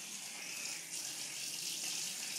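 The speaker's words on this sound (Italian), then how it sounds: "Chica nell'acqua calda che si sta lavando" Warm water runs and splashes steadily as a chick is washed, a constant gentle flow like a tap into a basin, close and without voices.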